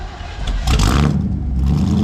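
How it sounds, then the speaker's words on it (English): A Ford Mustang's healthy-sounding engine revs up loudly nearby, a steady low rumble swelling in a brief rise and holding strong, with no talk over it. "See, that motor's nice and healthy, not blowing any smoke."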